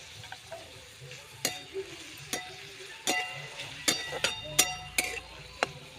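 Curry leaves tossed into oil with browned onion, crackling with a quiet sizzle under a series of sharp spoon clinks and scrapes against the pan, close by.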